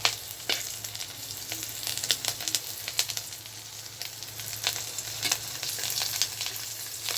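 Eight dried salted fish (tuyo) fry in a small amount of oil, giving a steady close sizzle with frequent sharp crackles and spits throughout.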